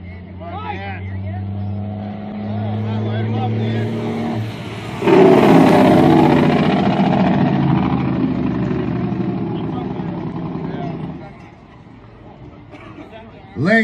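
An Army truck in a 2015 jake brake contest drives past, its deep engine drone bursting into a loud, rattling engine-brake roar partway through, holding for several seconds, then fading off.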